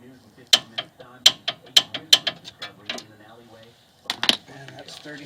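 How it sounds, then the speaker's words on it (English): Ratchet or torque wrench clicks in short bursts while tightening suspension bolts on a Mercedes SLK R170 front upper control arm, close and crisp, with a second cluster of clicks after a short pause. "on the top one you have to use your torque wrench on the nut side as well"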